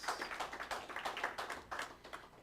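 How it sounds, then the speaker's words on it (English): Audience applause for a startup-financing speaker named Joe at an evening business law event, heard as a faint, steady patter of many hands clapping, somewhat distant and continuous for a couple of seconds. "let's give Joe a round of applause and thank him."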